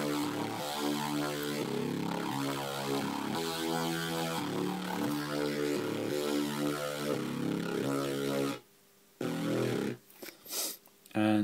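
A gritty, growling synth mid bass from a Nanostudio recreation of Nero's 'Departure' pulses in a steady rhythmic pattern, loud and close, then cuts to a gap before short stuttering bursts return.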